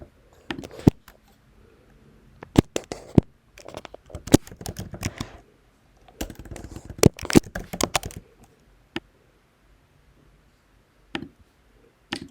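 Someone types an email address on a computer keyboard while creating an account: close, crisp key clicks come in quick bursts separated by short pauses, ending in a few isolated taps.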